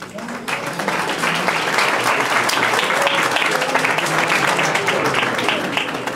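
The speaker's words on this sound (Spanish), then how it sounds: "para quien pido un fuerte aplauso" Strong, continuous applause from an audience welcoming a lecturer at a conference on human rights in family law, a full steady wash of clapping rising quickly and sustained throughout, with faint voices underneath.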